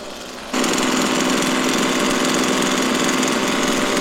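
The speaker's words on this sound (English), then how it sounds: "I am just braking in this engine, so I don't want to rev it too hard." After a brief quieter moment, a small engine being broken in kicks in and holds a steady, buzzing idle with a constant rattling drone, close and loud.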